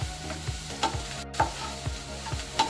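A spoon stirs onions with turmeric and salt in a hot pan, scraping in a steady repeated rhythm of about five strokes over a soft continuous sizzle, close and moderately loud with no talking.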